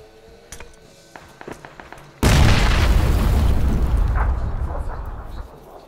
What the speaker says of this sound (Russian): К тебе гранату кидает.